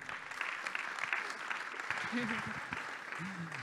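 Conference audience applause welcomes a speaker onto the stage at a business startup day, a steady crowd clapping at moderate distance, with a voice speaking faintly over it toward the end.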